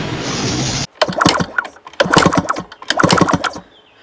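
A KTM SX 85 motocross bike's engine is kicked over without starting during a spark test, giving three bursts of rapid mechanical chuffing and clattering separated by short pauses, close and fairly loud.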